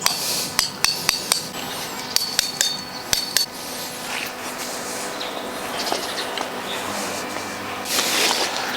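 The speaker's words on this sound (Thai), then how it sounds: "ผมก็จะแนะนำให้ตอกสมอก่อนนะครับ" A series of sharp metallic hammer strikes driving tent stakes into the ground, irregularly spaced and fairly close, then fading into a rustling, hissy background.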